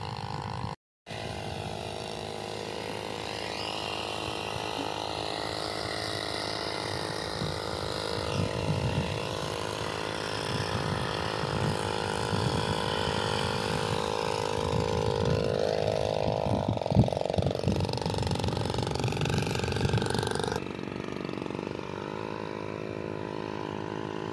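A crop spraying machine runs in a cotton field in Sindh, a loud continuous mechanical whine and rattle with steady engine drone that shifts pitch partway through, close by and heard without talk.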